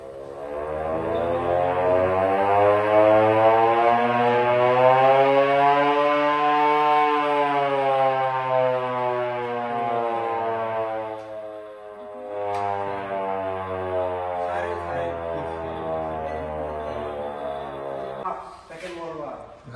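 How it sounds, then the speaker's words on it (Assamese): A vintage war siren at a car museum in Kaziranga, Assam wails loudly and close, rising to a sustained howl, dipping, then swelling again before winding down. "এইটো হৈছে ৱাৰৰ চাইৰেন"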